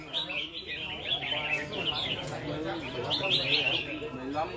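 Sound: fighting birds calling in a bird contest arena

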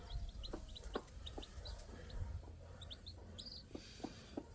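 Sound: chicks

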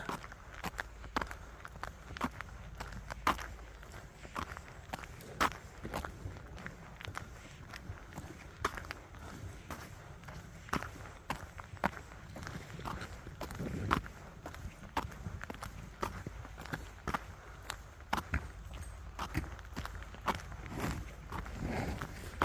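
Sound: footsteps walking along a snowy path

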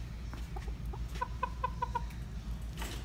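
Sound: pet rooster clucking in auto parts store

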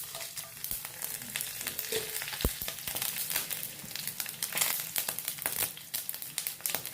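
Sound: mustard seeds and dried red chillies sizzling in hot coconut oil

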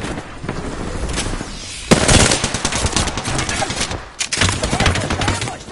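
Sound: gunfire in a video game shootout

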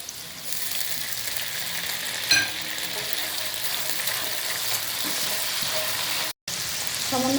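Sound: soy sauce added to lightly fried chicken sizzling in pan

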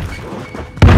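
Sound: grenade thrown in Call of Duty Warzone video game

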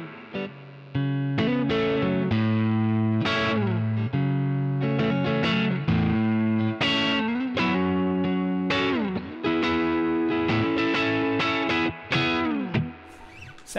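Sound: guitar through Koch Studiotone 20 amp head with reverb

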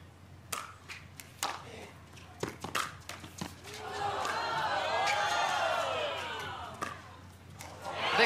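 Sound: pickleball match crowd oohing and aahing

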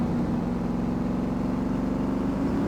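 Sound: video game car engine rumbling

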